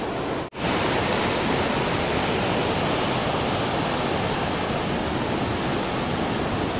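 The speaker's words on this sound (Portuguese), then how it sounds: "Vocês precisam vir aqui visitar essa cachoeira do Mutum." Cachoeira do Mutum, a waterfall in Amazonas, pours in a loud, steady, close roar of rushing water that breaks off for a split second near the start and then resumes unbroken.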